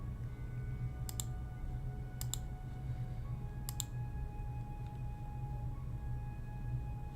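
A few sharp, clacky keystrokes from a computer keyboard, in three quick bursts spaced a second or more apart, sit over a steady low room hum with no talking.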